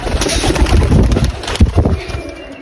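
Pigeons coo in low, throaty, rolling pulses at close range, with soft rustling and shuffling around them.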